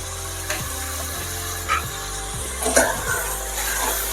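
Masala of onions, tomato, green chillies and garlic frying in a pan for Telugu thiragabatha annam, a steady close sizzle with a few faint clinks and no talking.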